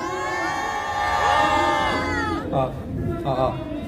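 A student rally crowd cheers and shouts with rising whoops and sustained voices, then the noise breaks into shorter bursts of cheering near the end.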